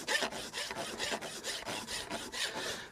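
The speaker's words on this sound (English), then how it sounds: "you can use your rasp like a linisher and you can just use it like that. Take your heel checks out" Farrier's Hella XL rasp filing a horse's hoof: about ten quick, regular rasping strokes in a steady back-and-forth rhythm, close and fairly quiet, with no talking.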